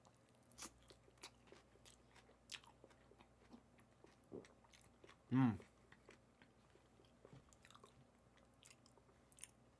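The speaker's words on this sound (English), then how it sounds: "Let me get a bite of that real quick" Crunchy bites and chewing into a Chipotle burrito bowl: soft mouth clicks and crunches scattered through a quiet room, with one louder burst partway through.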